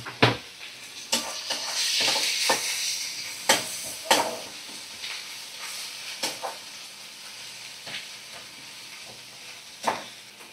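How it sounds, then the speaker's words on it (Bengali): Spice paste of green chili, tomato and ginger-garlic paste frying in a pan while being stirred: a continuous sizzle with repeated scraping and clattering strokes of the spoon, close and moderately loud. "এবার মশলাটা কষা হয়ে গেছে"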